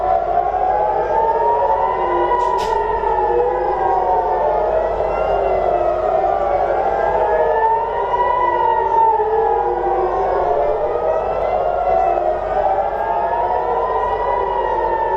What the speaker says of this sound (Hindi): ये वो जगह है जहां पर लगातार मिसाइल सायरन बजे हैं। सायरन की आवाज आप सुनिए।